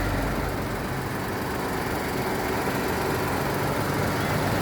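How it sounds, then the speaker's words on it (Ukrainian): Petrol engine of a 2006 Skoda Fabia running on a gas-petrol setup, idling quietly and steadily with a soft even drone under the open hood, no pauses or revs. "Отак ось дробить двигунчик, тихесенько, навіть і не чуть."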